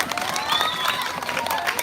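Audience applause and cheering at a live Balinese Calonarang temple performance, a dense steady crackle of clapping with crowd voices mixed in, sustained throughout.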